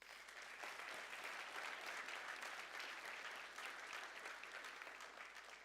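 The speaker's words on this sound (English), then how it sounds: "a big round of applause for them" A room of people at a startup showcase clapping steadily in sustained applause, dense and even throughout, quiet overall and with no talk over it.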